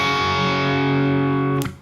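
A suspended fourth chord rings out as a single sustained strum through a distorted effects-laden tone, holding steady before cutting off abruptly near the end.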